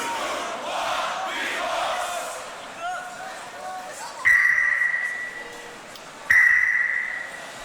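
A beatbox battle crowd at GBB21 roars and chants loudly together, the noise fading into a quieter stretch broken by two sharp, sustained tonal blasts.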